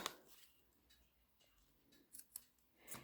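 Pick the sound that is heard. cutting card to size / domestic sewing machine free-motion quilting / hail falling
cutting card to size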